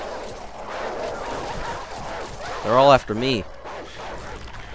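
Dogs bark and yelp in Call of Duty 4: Modern Warfare, a short burst of two close, loud barks in the middle, with someone talking before and after.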